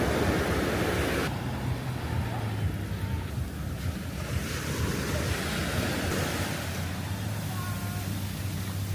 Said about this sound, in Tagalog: Ang lakas po ng alon.